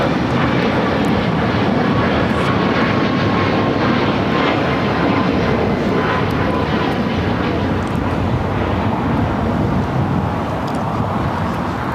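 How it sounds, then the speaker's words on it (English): An Alaska Airlines jet roars through its takeoff run at LAX, a loud, sustained engine rumble with broadband whine that holds steady throughout at close range. "That was Alaska Airlines heading to Guatemala City, flight 1353."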